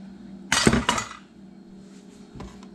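A spoon clinks and scrapes against a pan while pasta is stirred into a manicotti Italian casserole, with a dense burst of metallic clatter followed by a faint, lone clink.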